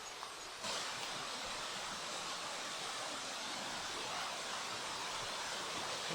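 A waterfall in the White Mountains on a muddy hillside near Mount Hale rushes in a steady, broad hiss that swells abruptly after a moment and holds loud and unbroken, with no voices.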